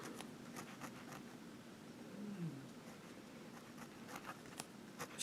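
A Parker fountain pen with a fine nib, filled with ox blood ink, writes on paper: quiet, close scratchy strokes come in short, irregular bursts over a low room hum.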